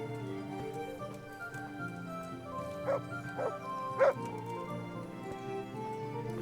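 A dog in Kingdom Come: Deliverance gives a few short yips and barks, three quick bursts with the last loudest, over a sustained musical game background.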